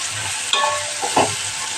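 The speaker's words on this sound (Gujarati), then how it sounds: "આપણે મસાલા પાકવા દઈએ। થોડીક વાર પાકવા દઈએ તો આ રીતના આપણા મસાલા બધા પાકી જશે।" Masala spices sizzling in a pan for a gravy-style moong curry, a steady close frying hiss broken by a couple of brief stirring scrapes, no voices.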